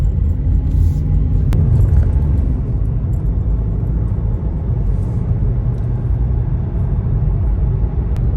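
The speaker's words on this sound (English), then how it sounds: "So all of that traffic that I'm going past here now" Steady road traffic rumbles past a moving car on a roundabout route, a continuous loud engine and tyre drone with no talking.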